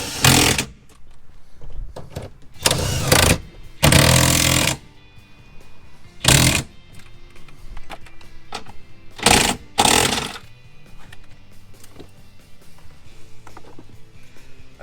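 Impact wrench tightening seat cover bolts, short loud rattling hammering bursts repeated about eight times with quiet pauses in between, close up.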